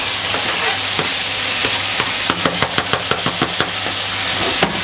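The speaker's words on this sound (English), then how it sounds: "So let's go ahead and add our mushrooms and garlic so they can start cooking" Mushrooms and garlic fry in a hot pan with a constant close sizzle, broken by a run of quick knocking and stirring taps from a utensil against the pan.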